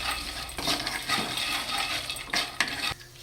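Milk pasta being stirred in a pot with cashews and raisins mixed in, giving a steady scraping and clinking of a utensil against the pan, with a few sharper knocks near the end; no talking.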